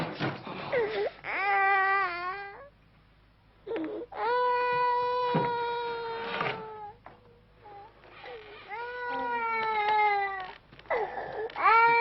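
A child cries loudly in long wailing sobs with short gasping breaks, alone in an empty apartment, the wails rising and falling across the whole stretch.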